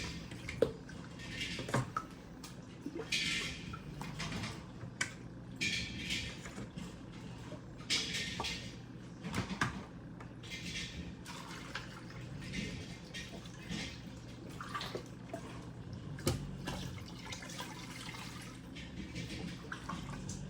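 Water from a bucket is poured into a betta fish tank, trickling and splashing in uneven bursts with drips and small gurgles, fairly quiet and close.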